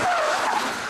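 Car tires squeal and skid during an evasive lane change maneuver on a test track, a short loud screech that sweeps in pitch, heard alone and close.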